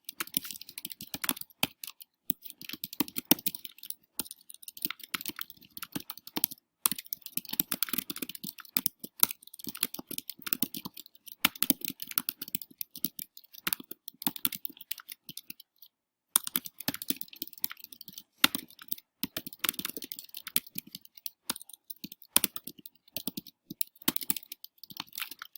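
Steady, fairly faint typing on a computer keyboard as a short text blurb is entered, dense irregular key clicks running continuously with only a brief pause midway.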